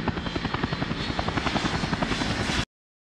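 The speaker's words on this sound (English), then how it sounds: "The helicopter which is about to take off also produces loud" Loud, close helicopter about to take off, rotor chopping in a fast steady rhythm over engine roar, cutting off abruptly near the end.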